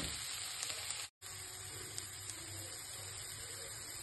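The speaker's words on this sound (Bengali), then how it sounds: "বিটরুটটা প্রায় 3-4 মিনিট ভাজা হয়ে গেছে।" Beetroot fries in a pan with turmeric and spices, giving a steady close sizzle with a brief dropout early on before the hiss resumes evenly.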